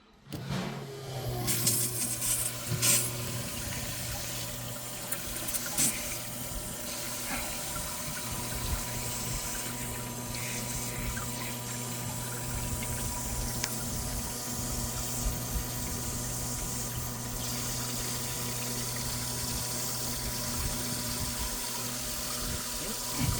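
A boat's live well water pump runs continuously with a steady motor hum and gushing, splashing water, close and fairly loud, with occasional knocks and handling noises over it.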